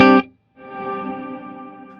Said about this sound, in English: hold down length, dial the reverb out, so we'll pull out most of that pre-delay